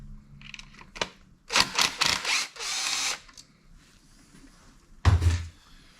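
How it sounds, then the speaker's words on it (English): A Torx 30 bolt being undone on a 2009 Volkswagen Golf Mk6 2.0 TDI, heard as short bursts from a power driver with clicks and knocks between them, close by and alone. "So I'm going to undo this Torx 30 bolt."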